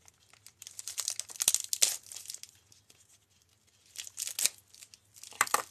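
Plastic packaging crinkles and tears in several bursts, close by, with quiet pauses in between.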